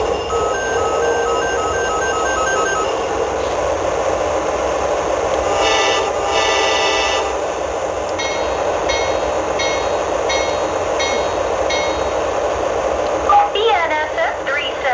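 Model train set running on its track at home, a steady low rolling hum with recorded locomotive sounds and tonal beeps from the set, under talk and radio-style announcements.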